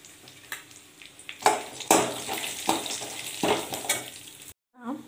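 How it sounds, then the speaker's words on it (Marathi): Almonds frying in ghee in a wok give a steady close sizzle, broken by sharp scraping stirs and clinks of the spatula, then a brief silence near the end. "कढईमध्ये थोडंसं तूप टाकलेलं आहे, त्याच्यात हे बदाम लालसर भाजून घेऊया"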